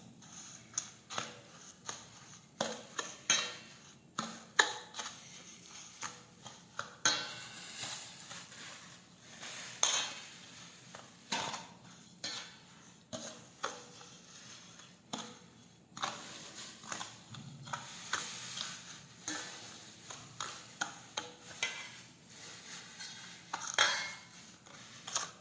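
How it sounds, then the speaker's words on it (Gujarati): A spoon scrapes and clinks steadily through a thick spiced mixture of fennel seeds and chutney in a bowl for gunda pickle, in soft, close, irregular strokes. "હવે આપણે મિક્સ કરી દઈશું આ રીતે।"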